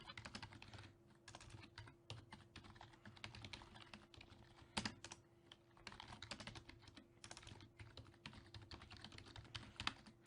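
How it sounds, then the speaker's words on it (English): Rapid typing on a computer keyboard as code imports are entered, a continuous patter of close but quiet keystrokes with brief pauses and no voice. "I'm just going to go ahead and type all these in."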